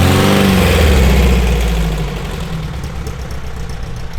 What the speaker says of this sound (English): There's Joseph pulling off.